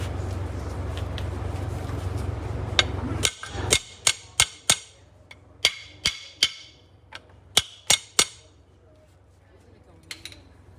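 Hammer tapping the rear axle U-bolts on a 1962 Ford Thunderbird: about a dozen sharp metallic blows in irregular bursts, close and loud, after a low rumbling background at the start.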